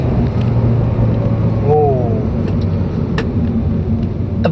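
A Peugeot 3008 turbo with a six-speed automatic gearbox pulls under throttle, giving a loud, steady low engine drone with a brief rising whine partway through.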